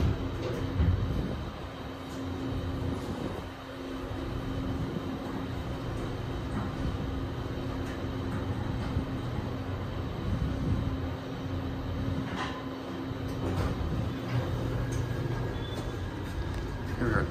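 An OTIS Gen2 machine-room-less traction elevator travels down, giving a steady low hum and rumble of the moving car that holds evenly throughout, with faint clicks and creaks from the cab.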